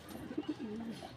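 A male domestic pigeon coos nearby, a few soft throaty pulses rising into a drawn-out call, quiet and alone.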